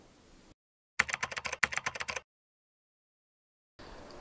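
A quick burst of rapid typing on an aluminum keyboard, about a dozen crisp keystrokes in a row, set between stretches of silence.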